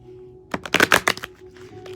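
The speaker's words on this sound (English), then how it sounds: "So I'll just shuffle these cards here." Tarot cards being shuffled by hand, a quick burst of crisp riffling flutters lasting under a second, close and fairly loud against a quiet, faintly humming room.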